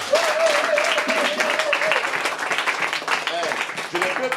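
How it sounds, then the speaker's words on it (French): An audience claps loudly and continuously at an orphanage gathering. Voices and cheering mix with the applause. "Est-ce que vous pouvez applaudir alors?"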